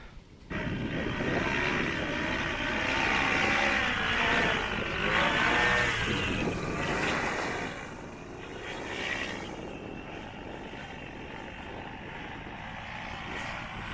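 A paramotor engine drones steadily in flight, a loud continuous propeller hum close to the microphone that eases somewhat toward the end, with no voices.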